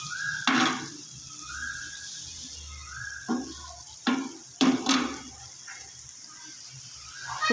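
Keema frying in ghee on a tawa while being stirred and mixed, with a soft sizzle underneath and several distinct scraping, clattering strokes of the utensil against the pan, fairly quiet and close.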